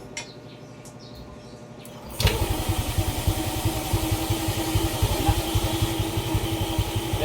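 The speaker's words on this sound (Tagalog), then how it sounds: "umandar na ang motor" A Yamaha Aerox 155 scooter with a sensor fault, after a stator assembly replacement, cranks and fires up about two seconds in, settling into a steady, close, pulsing idle after a quiet stretch of faint background noise.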